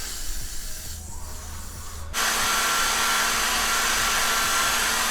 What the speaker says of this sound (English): I'm going to be using my Got to Be Glued Blasting Freeze Spray